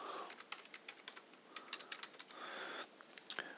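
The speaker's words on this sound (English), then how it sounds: "let's first type some dummy text as we do" Someone typing filler text on a computer keyboard, a quick irregular run of soft key clicks with brief pauses, close and quiet with no talking.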